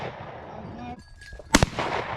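A single loud gunshot at a chukar during a pheasant and chukar hunt on a New Jersey hunting preserve. It cracks sharply with a brief tail over an outdoor background, with faint voices nearby.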